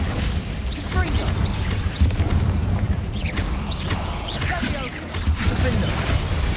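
Bombarda and Confringo spells blasting in combat in the Hogwarts Legacy video game, with repeated booming bursts over a dense, continuous rumble of battle noise.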